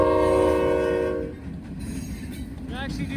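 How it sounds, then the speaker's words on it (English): A freight locomotive's horn blows at a trackside crossing, a loud sustained chord for about a second before it cuts off, leaving the rumble of passing rail cars and wheel noise. "I actually do like that horn."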